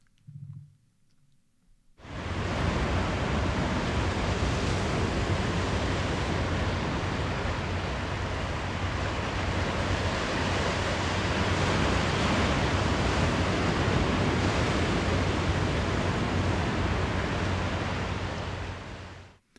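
Steady, roaring surf washing continuously against the rocky shore at Flat Rocks, loud and close, after a brief faint sound at the start.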